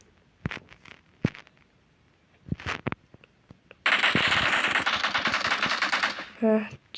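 Gunfire in the mobile battle royale game PUBG Mobile: a few scattered single shots, then a sustained loud burst of rapid automatic fire lasting a couple of seconds, ending with a short metallic clatter.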